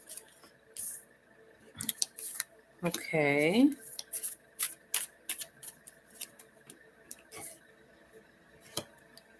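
A tarot card deck is shuffled on a table in a series of quick, crisp riffles and taps, near and fairly quiet, with a brief spoken word in the middle.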